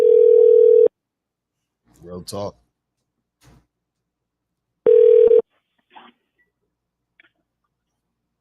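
A loud, steady telephone tone sounds twice, with soft clicks and short beeps between and after as a call back is placed; someone speaks briefly among the tones.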